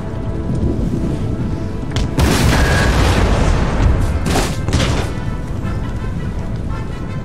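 Cannon and musket fire on an Empire: Total War battlefield: a loud, continuous rumble of booming volleys, with sharper bursts of gunfire layered over a dense low roar.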